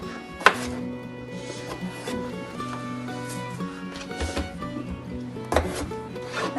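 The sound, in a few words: knife cutting potatoes into halves and fourths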